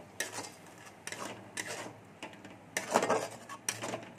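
A spoon scrapes and knocks around a pan while spices and coriander leaves are stirred and sautéed, in several distinct bursts of scraping separated by short quiet pauses, close and moderately loud.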